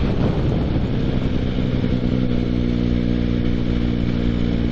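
A motorcycle rolling off the throttle on a 40-limit road past an army base, its steady engine drone and wind rush holding close and constant with no clear rise or fall.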